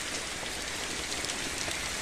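Heavy rain pouring down on a dark afternoon, a dense, steady hiss of drops hitting the ground, loud and unbroken throughout with no voices.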